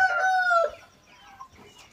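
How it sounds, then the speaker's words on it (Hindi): An Aseel rooster crows loudly close by, a long drawn-out call that fades, followed by softer scattered clucks from nearby Aseel fowl. "और बेहतरीन मुर्गी और मुर्गा।"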